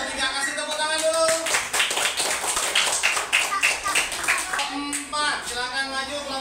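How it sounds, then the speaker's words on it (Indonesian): A classroom of students claps for group 3, a burst of rhythmic hand clapping in the middle with talking voices before and after it, fairly close and lively. "Kelompok 3 kasih tepuk tangan dulu."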